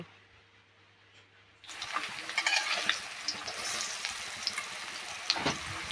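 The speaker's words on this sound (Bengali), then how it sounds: "বাকি বড়াগুলো এইভাবে ভাজা করে তুলে নেব।" Chhana (milk curd) fritters dropped into hot oil burst into loud, crackling sizzling after a quiet start, with bubbling pops and occasional sharper spatters continuing steadily to the end.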